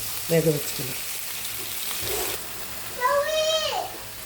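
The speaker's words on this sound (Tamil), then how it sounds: "இப்போ கொஞ்சம் தண்ணி விட்டு வேக வச்சுக்கணும்" Ivy gourd and peanut curry sizzles and hisses in the pan as water is poured in, with a few clinks of a utensil early on. The sizzle stays close and moderately loud, and a short voice-like tone rises near the end.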